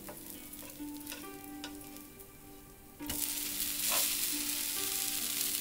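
A jowar dosa fries on a hot pan with a steady, close sizzle. The hiss rises sharply partway through, and faint stirring or scraping ticks show through.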